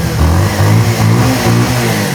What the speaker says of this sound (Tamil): வண்டி ஸ்டார்ட் ஆயிடுச்சு.